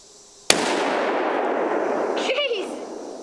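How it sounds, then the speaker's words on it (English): A single loud rifle shot cracks out while hunting outdoors, followed by a long fading echo and faint rustling afterward. "I just shot a big one."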